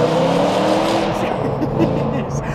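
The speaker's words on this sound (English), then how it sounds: "That FI exhaust is just popping." A powerful supercar engine roars loudly up close as it accelerates, the exhaust note rising and crackling, the FI exhaust popping, with a voice faintly underneath.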